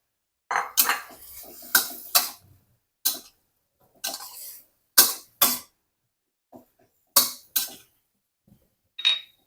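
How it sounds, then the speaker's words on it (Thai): Metal utensils scrape and clatter against a pan as stir-fried egg goes into cabbage with carrot and sliced shallot, a series of sharp, separate bursts with quiet gaps between them. "แล้วเราก็ใส่ไข่ที่เราผัดไว้เมื่อสักครู่ลงไปเลยค่ะ"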